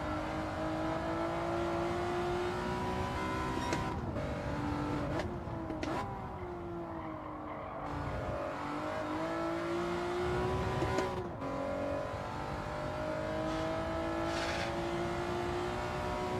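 Race car engine in a racing video game time trial, droning steadily and rising in pitch as it accelerates, with brief drops at gear shifts before climbing again.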